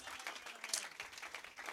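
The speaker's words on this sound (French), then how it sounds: "Donnez une main d'acclamation au Seigneur" A church congregation claps briefly during a worship service, a faint, scattered patter of hands at a distance.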